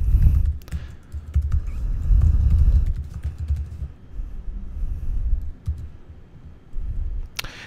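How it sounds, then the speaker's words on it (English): Fingers tap on a computer keyboard at close range while an email address is entered, with quick irregular clicks in bursts, a lull partway through, and a sharper click at the end. "I'm going to type in my email."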